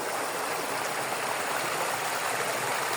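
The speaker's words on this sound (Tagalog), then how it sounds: "Kitang-kita nyo yung tubig na dumadaloy." Water from a spring at Calibato Lake flows in a steady, close, full rushing wash. It sounds like a continuous stream with no pauses and no voices.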